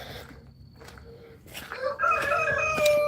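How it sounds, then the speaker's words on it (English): Roosters crow nearby at a rainy sunrise, long rising calls overlapping one another, with a bit of distant clucking before them. "The roosters say good morning."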